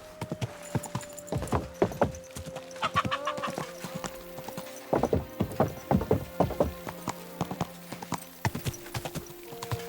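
Horse hooves clip-clop in an uneven, lively rhythm close by in Kingdom Come: Deliverance II, with soft sustained tones humming underneath.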